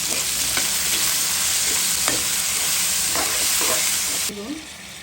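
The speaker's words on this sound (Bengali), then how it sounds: "ভাজা ভাজা হতে থাক।" Potatoes, green chilies and vegetables fry in a pan with a steady sizzle, while a spatula scrapes and stirs in close, repeated strokes; the frying continues throughout, ending with a lighter sizzle and a final stir.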